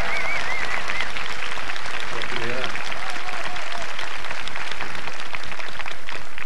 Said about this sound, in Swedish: Jubel! Och applåder!